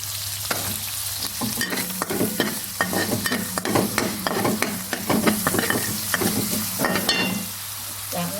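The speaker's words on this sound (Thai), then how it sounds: "ใส่ข้าวมาผัดเลย อย่าให้เหลือเปล่าๆเราจะได้มาเป็นเม็ดข้าว" Egg fried rice being stir-fried in a hot pan, with a steady sizzle and repeated scraping, tossing strokes of a utensil close by and no talking.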